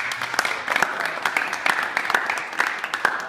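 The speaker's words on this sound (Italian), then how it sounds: "Un applauso, ragazzi." Applause at a civic award ceremony for a national basketball title, a modest crowd clapping irregularly with sharp individual claps standing out, close by, with some voices mixed in.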